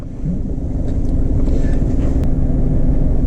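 A car on an early-morning drive to work, heard from inside as a loud, steady low engine and road rumble with no break.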